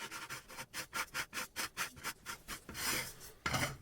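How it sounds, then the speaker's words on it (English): Top cover of a Dynalabs PM-440 or PM-250 vibration shaker being unscrewed by hand, a close run of about a dozen rhythmic rasping, scraping turns followed by a longer grinding scrape near the end, with no talking. "Now unscrew the top cover."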